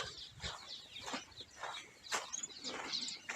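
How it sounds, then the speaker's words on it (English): Birds chirp and call in short repeated bursts around a picnic and pool area in Augrabies Falls National Park in the Northern Cape, fairly faint against a quiet outdoor background. "You know, all the birds flying around."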